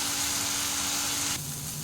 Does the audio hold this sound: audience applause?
no